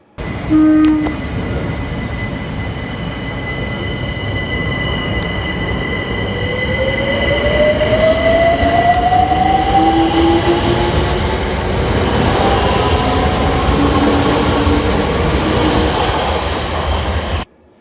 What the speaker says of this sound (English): Listen to this 378 Overground train to hear the difference.